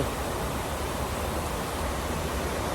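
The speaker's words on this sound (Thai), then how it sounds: "บรรยากาศ ฟังน้ำตก ไหลน้ำพี่น้อง" A waterfall and flowing stream water rush outdoors, a steady, dense roar with no breaks or distinct events, fairly loud and continuous throughout.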